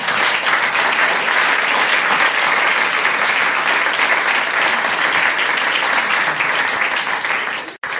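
Steady, dense applause from a comedy cabaret audience fills the room at full volume without a break, then stops abruptly near the end.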